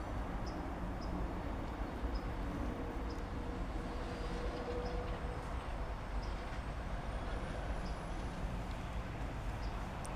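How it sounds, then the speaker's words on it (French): Trains pass beside the Réserve de Bruges nature reserve in Nouvelle-Aquitaine, giving a steady, moderately loud rail rumble that holds for the whole stretch without a break and with no talking. "il y a les trains qui passent"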